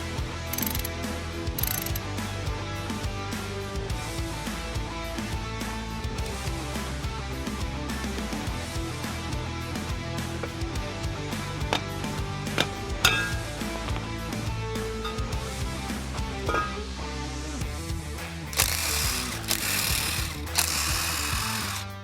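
A brake hub is worked apart from its drum on a 1967 Jeepster, giving a steady, close run of metallic ratcheting and mechanical clatter that lasts throughout. A harsher grinding burst comes near the end.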